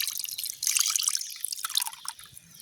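Water pours and splashes into ground chili spice paste being mixed for a village-style pond fish curry, a steady bright trickle with brief dips, close and fairly loud.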